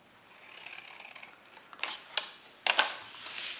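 Paper or card being cut along a diagonal with scissors while folding a box-in-a-box, giving quiet close snips and rustles that build to a few sharper crisp cuts near the end.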